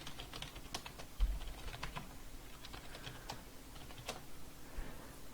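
Keys on a computer keyboard are typed to fill out form fields in a quiet room, producing faint, close, irregular clicks and taps with brief pauses and no talking.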